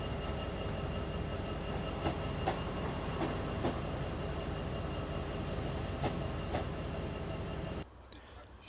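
A train runs on rails heading north in Scotland, a steady rumble with rhythmic wheel clicks heard from on board, ending in a sudden drop to quiet.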